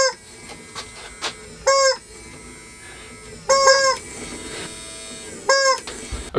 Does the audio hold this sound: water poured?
no